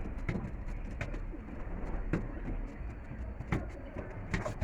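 Racing pigeons coo softly and repeatedly in a loft, their low murmuring calls running steadily over a busy background with occasional sharp clicks and knocks.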